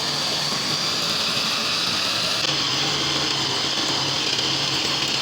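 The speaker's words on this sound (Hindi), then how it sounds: "और अब मैं इसको साथ ही चॉपर के अंदर अच्छी तरह से चला लूँगी" An electric chopper whirs continuously, steady and close, as it grinds spiced minced meat for kofta.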